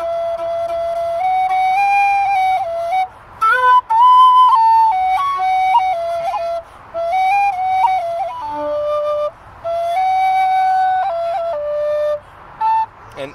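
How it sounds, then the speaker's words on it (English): A low D whistle plays a wavering melody of sustained notes with short gaps, and one note cracks into a thin, high harmonic in the second octave. "it would break into a weird harmonic thing"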